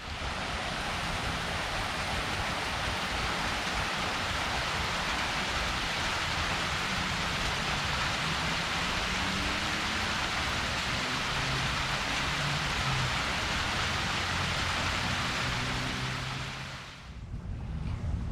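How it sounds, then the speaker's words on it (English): Heavy rain pours down steadily outdoors in a suburban yard, a dense, even wash of noise that holds for a long stretch before briefly thinning near the end. "I think we just got about an inch of rain in like the last half hour"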